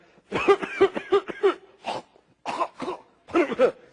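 A voice imitates a run of rough coughs and hacking sputters, several quick bursts in a row, close and fairly loud.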